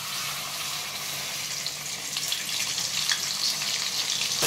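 Ground masala paste fries in hot oil with a loud, continuous sizzle and hiss that stays steady throughout with no voices.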